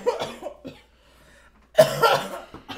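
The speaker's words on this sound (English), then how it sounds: "I'm coughing, bro." A person coughs hard in a burst of rough, breathy hacks right after some brief vocal sounds, close and loud against a quiet background.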